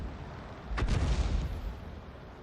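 A tank destroyer's artillery gun fires in a World War II tank video game, a single deep boom near the middle followed by a short rumbling tail over steady engine drone.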